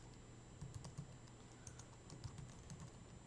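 Soft keystrokes on a computer keyboard, close and quiet, tapping in small irregular clusters over a faint steady hum.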